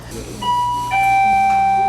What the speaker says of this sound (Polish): To był dzwonek, bo na każdym stoliku pokażę Wam taki dzwonek